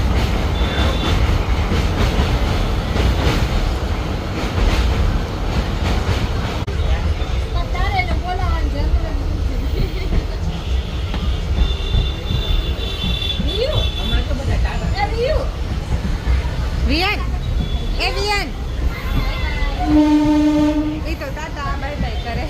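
A train rumbles along loudly and continuously while crossing a river in thick fog, and a horn sounds near the end. People talk over the running noise.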